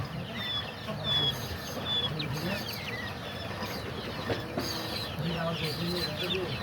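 Quail chicks of two breeds, one a white type and skittish, cheep and peep in a busy, overlapping chorus of short high calls, close by, over steady background noise and shuffling.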